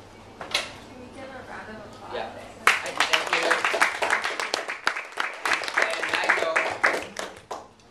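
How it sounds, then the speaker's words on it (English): A small group in a library gives a round of applause, a few isolated claps at first and then a burst of dense, close clapping that builds and fades out over several seconds, with some voices mixed in. "Can we give a round of applause?"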